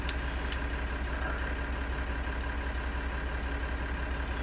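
A farm tractor's engine idles steadily in the Farming Simulator 2013 video game, a continuous low mechanical drone with a faint high whine running under it, unbroken and fairly loud throughout.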